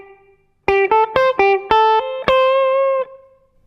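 Electric guitar through a small room delay pedal, several clean plucked notes in a short rising phrase, each ringing briefly with a tight ambience before one longer sustained note fades.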